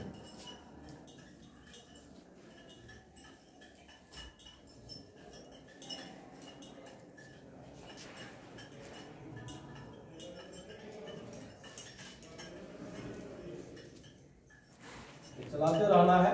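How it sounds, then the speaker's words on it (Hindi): A glass rod clinks against a glass beaker as sugar is stirred into water in a school lab, faint repeated tinkling taps throughout beneath a person speaking, with louder clatter at the end. "कांच की छड़ की सहायता से इसको मिलाना है"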